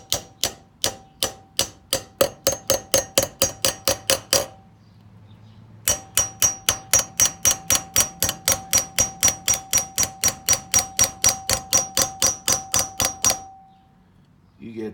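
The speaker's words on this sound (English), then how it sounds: "I'll tap them in with the hammer" Rapid, evenly spaced hammer taps ring out with a bright clang as metal pieces are tapped into place before welding, two long runs of strikes separated by a short pause.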